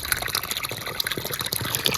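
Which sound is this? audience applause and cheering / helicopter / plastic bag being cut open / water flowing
water flowing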